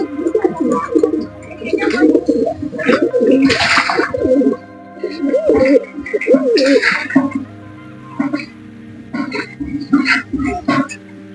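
Pigeons, male birds including a black-tailed type, coo loudly and repeatedly at close range while getting ready to bathe, with throaty, overlapping bursts, brief wing flutters and short pauses between calls.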